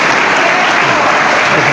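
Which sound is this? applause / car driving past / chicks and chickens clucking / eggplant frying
applause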